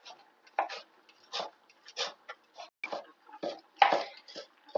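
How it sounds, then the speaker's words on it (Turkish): A knife chops dill and parsley repeatedly on a cutting board, a fairly quick, uneven series of crisp taps close by with no talking. "bir avuç dereotu, bir avuç maydanozu güzelce kıyıyorum"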